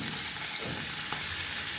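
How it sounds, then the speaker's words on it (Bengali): Fish sizzles steadily in hot oil for a Bengali fish bhuna, a dense, even crackling hiss with small popping bursts throughout and no voices. "মাছ ভাজার জন্য তেল দিয়ে দিলাম।"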